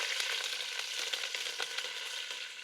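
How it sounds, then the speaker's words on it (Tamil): Onion and curry leaves sautéing in hot oil with fenugreek seeds for a curry, giving a dense, even sizzle with faint stirring ticks throughout, steady and close, with nobody speaking. "வெங்காயமும் கருவேப்பிலையும் நல்லா வதங்கணும்"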